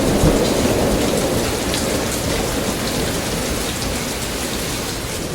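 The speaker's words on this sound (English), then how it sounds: "we got a full-on gully washer rain and hailstorm, dropping an inch of rain in just a matter of a few hours" Heavy rain and hail pour down in a steady, dense roar during a gully-washer storm, with thunder rumbling low beneath the constant hiss throughout.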